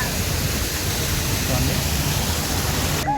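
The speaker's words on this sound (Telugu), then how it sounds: "వాటర్ ఫాల్స్ ఇది. వాటర్ అయితే పైనుంచి పడుతున్నాయి, వాటర్ పైనుంచి పడి మళ్ళీ ఆ కాలువలోకి వెళ్తున్నాయి అనమాట." At a park, an artificial waterfall pours from above into a channel as a loud, steady, unbroken rush of splashing water, with a brief spoken word near the end.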